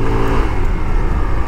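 An FKM Hunter 150 motorcycle with a 150cc engine, still being broken in, pulls away under loud, close acceleration, the engine note rising steadily throughout the short burst.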